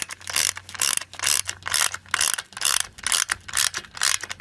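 A ratchet wrench clicks steadily in repeated bursts while driving lag bolts into the footing of a ShelterLogic Monarc canopy leg, close and fairly loud with no talking.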